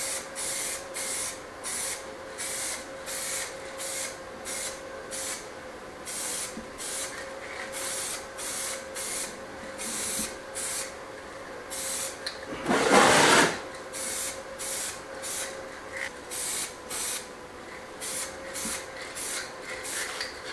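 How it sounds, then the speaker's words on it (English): A spray paint can fires a single short hissing burst onto handmade wooden cabinet parts in a Spanish farmhouse renovation, rising above a steady rhythmic clatter of background noise. "always turn your can upside down and spray it as well, till no paint comes out"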